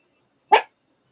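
A single short, sharp dog bark rings out close by, surrounded by silence.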